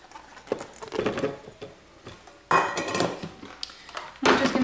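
Chunked bananas and other fudge ingredients tumble into a container in a few soft thuds and clatters, with a louder spill of items partway through and another near the end, close by with no talking.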